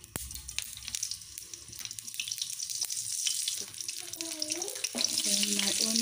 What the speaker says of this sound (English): While waiting for the yam, we'll start to fry our sauce.